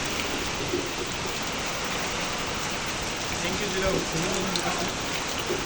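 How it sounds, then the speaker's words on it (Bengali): Steady rain falling on surfaces outdoors, a constant moderate patter that runs through the whole clip, with a few faint voices mixed in underneath. "বৃষ্টি।"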